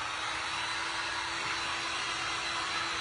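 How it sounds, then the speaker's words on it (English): A hair dryer blows warm air over resin-coated wooden angels with stenciled wings, a steady close whooshing roar that holds constant throughout. "I'm gonna hit them all with my dryer, just real quick"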